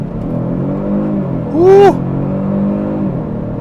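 2025 Genesis G70 3.3T Sport Prestige launching hard off the line, its turbocharged engine rumbling and then rising in a loud, rapid sweeping rev, heard from inside the cabin with a brief excited shout.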